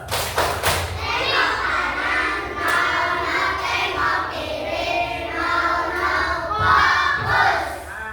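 Classroom children loudly chanting a rhythmic clapping game in unison, dense voices and hand claps filling the room continuously for several seconds.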